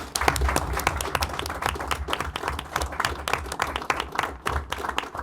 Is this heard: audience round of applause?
yes